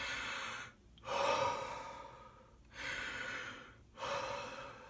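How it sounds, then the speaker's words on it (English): Big, deep breaths drawn slowly in and out, three long audible inhale-exhale cycles close to the listener with no talking. "A good idea is to take some big, deep breaths."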